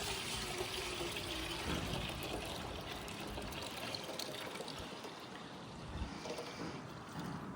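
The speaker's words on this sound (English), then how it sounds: "So we'll fill up the cleaner, ultrasonic cleaner, with some water." Tap water poured into an ultrasonic cleaner tank, a continuous splashing, trickling stream close by that eases off slightly toward the end, with no talking.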